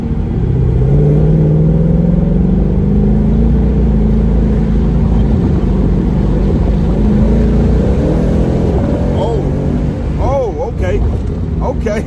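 A 2019 Mustang GT Premium engine roars loudly from inside the cabin as it accelerates, its deep exhaust note climbing steadily in pitch with a brief change near the end.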